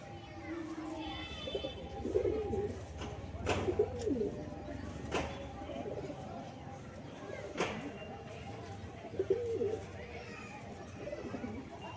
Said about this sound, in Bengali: পায়রাগুলো জোড়া নেওয়ার চেষ্টা করছে